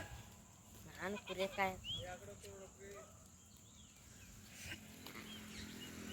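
A sheep bleats a few wavering calls nearby as a flock of nomadic shepherds gathers, followed by fainter bleats and a voice calling in the background.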